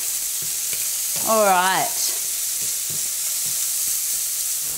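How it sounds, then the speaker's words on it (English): Bacon sizzles in a frying pan with a steady, loud, close hiss, and a voice speaks briefly over it. "look at that beautiful sizzling bacon"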